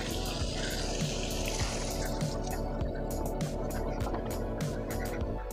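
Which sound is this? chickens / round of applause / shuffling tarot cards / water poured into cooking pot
water poured into cooking pot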